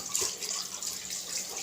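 Tap water runs steadily into a sink while vessels are washed during a cleaning lesson for a child with special needs, a continuous close hiss with no talk.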